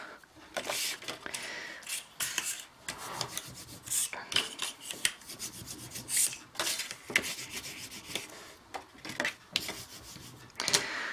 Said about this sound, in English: Just quickly burnish these.